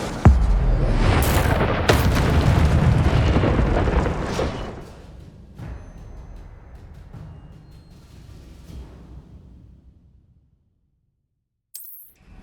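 An Incendio fire spell cast in a video game bursts out as a loud whooshing boom of flame, then decays into a long fading rumble before falling silent.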